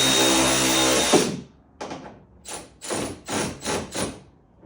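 Milwaukee power tool driving fasteners during a Superduty Morimoto taillight install: a long whirring run, then several short bursts of whine, close and loud with gaps between.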